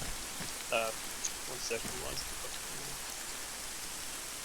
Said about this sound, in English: We cannot really hear you from the rain.